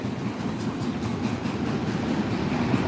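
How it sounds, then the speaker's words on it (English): A manifest freight train rolls past at steady volume, a dense continuous rumble of wheels and railcars with faint rhythmic clatter and no voices. "Here comes the manifest part of the train."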